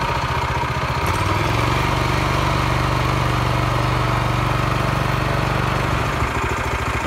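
A Brait BR-135GEDS walk-behind tractor with four forward gears and one reverse, its engine running loud and steady at close range while the machine drives along, with a slight shift in tone near the start and end.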